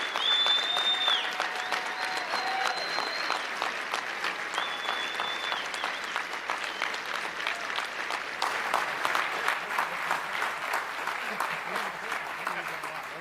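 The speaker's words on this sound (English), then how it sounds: "how about another round of applause for our great governor?" Sustained audience applause at a Texas policy summit keynote in Austin, dense crowd clapping running steadily for the full length, with some cheering and a few voices mixed in.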